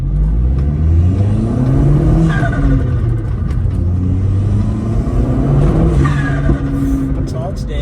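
A Fiat Uno Turbo pulls hard through the gears, its engine note climbing in two strong rising sweeps with a brief lift between them, loud and close from inside the car, while a voice talks over it.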